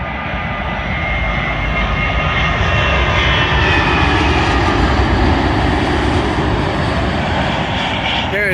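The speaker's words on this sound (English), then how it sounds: "Arriving in now is a Gulf Air Boeing 787 Dreamliner, working a service from Bahrain to London Heathrow." A Gulf Air Boeing 787 Dreamliner arriving at London Heathrow from Bahrain rumbles past close by, a loud, sustained jet roar with gliding whine tones that swells slightly mid-pass and stays strong to the end.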